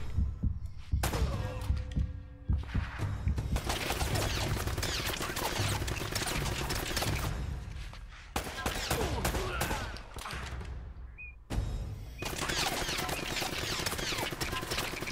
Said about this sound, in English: God, the fucking Gatling gun.